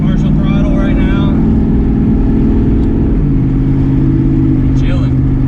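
A 1200+ horsepower Mustang engine on a closed course at partial throttle gives a loud, steady, rumbling drone with a brief dip in pitch midway, while voices talk over it.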